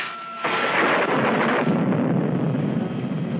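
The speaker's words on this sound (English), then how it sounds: "Just like that thunder, only worse." A loud, close rumbling roll of thunder, the kind in a 1939 western, sets in abruptly and sustains as a heavy broadband roar for several seconds with no talk over it.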